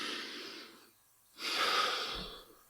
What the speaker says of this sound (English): maybe follow it up with that big deep breath